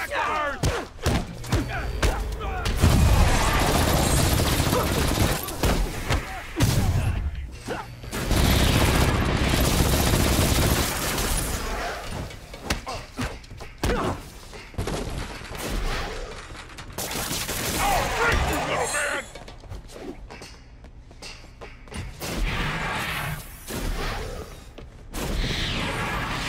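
Sustained Gatling gun fire in a Spider-Man game clatters in long, loud rapid bursts with heavy thuds and mechanical whirring, stopping and starting several times across the stretch.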